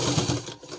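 Sewing machine stitching along the top edge of a girls' school dress, a steady close whirring hum with quick mechanical rattle across the short moment, no voices.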